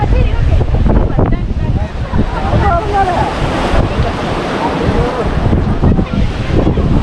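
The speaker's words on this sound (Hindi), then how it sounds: "चारों ओर समुद्र और बीच में जो पानी है ये पानी मीठा।" Sea waves surge and churn around Rameshwaram island in South India, a loud, continuous wash of surf with strong wind buffeting the microphone throughout.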